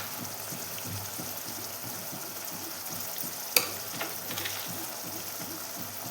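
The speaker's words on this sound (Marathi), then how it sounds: "हे सर्व मिश्रण आता आपण फ्राय करूया" Steady sizzle of a spice mixture of mustard seeds, turmeric, chilli powder and salt frying in hot oil, with a sharp clink of a utensil midway and soft stirring scrapes after.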